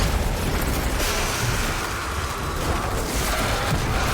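Solar explosions from the Sunshot hand cannon in a video game: a dense, continuous roar of overlapping blasts and crackling bursts, loud and close with no talk.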